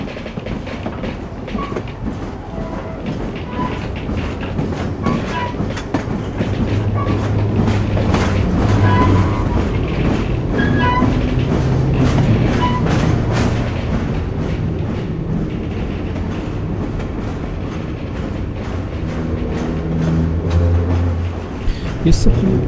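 A train rolls steadily in the video game Syberia 2, a dense rumbling clatter with rhythmic clicking of wheels that stays loud and continuous throughout, swelling slightly in the middle.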